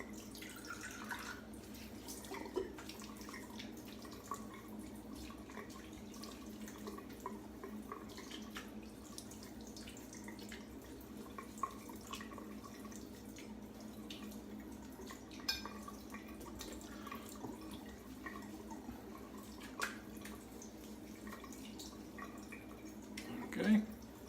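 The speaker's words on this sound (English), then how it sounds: "Alright, rinsing." Water from a tap runs and splashes faintly as a face is rinsed after a shave, with soft dripping and trickling in a quiet room and occasional small splashes.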